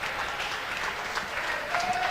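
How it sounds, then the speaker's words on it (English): Crowd at a high school boys' swimming meet cheering a swimmer finishing a race, a steady wash of applause and cheers, faint and distant in an echoing pool hall. "So listen to this crowd cheer for Joey Taylor as he finishes"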